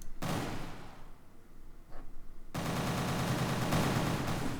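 A rotary gun in Unreal Engine fires in dense, rapid bursts, a loud continuous stream of shots broken by a short pause before resuming.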